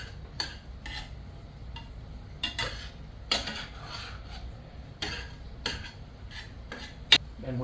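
Ground beef and chopped onion cook in a pan, with a spatula scraping and stirring in scattered quiet strokes over a faint, steady sizzle. There is no talking.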